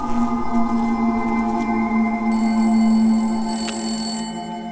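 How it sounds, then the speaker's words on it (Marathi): A telephone bell rings steadily and loudly for the whole stretch, a continuous tone with no break and no voices, heard in a scene from a Marathi film about the stage actor Dr. Kashinath Ghanekar. "फोन बघ जरा. घे ना ती."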